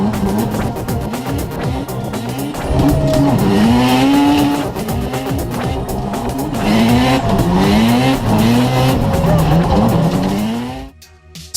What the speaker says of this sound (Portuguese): um trator Volvo BM Terrier de 1956, o tunaram até 225 cavalos de potência e o levaram aos campos agrícolas.